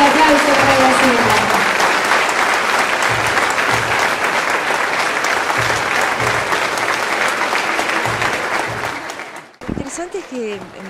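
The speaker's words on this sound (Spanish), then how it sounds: "Fuerte el aplauso para la señora" A crowd gives a loud, sustained round of applause for an honored woman at a community recognition event. The dense clapping runs for several seconds, then fades and stops, and a voice begins talking at the end.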